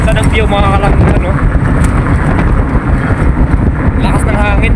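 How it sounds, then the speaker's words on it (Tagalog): Strong wind buffets the microphone outdoors with a loud, continuous low roar while a person talks over it. "Lakas ng hangin."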